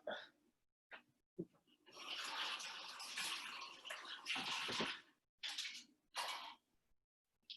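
Water running from a faucet to rinse out a measuring cup in a kitchen, with a couple of short splashes and then a longer, soft, hissing flow that stops and starts quietly.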